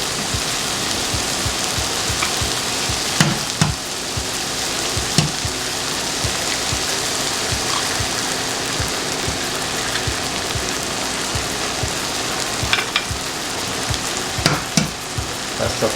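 An egg cracked over vegetables fries in a pan with a constant close sizzle and occasional sharper pops, alone without talk.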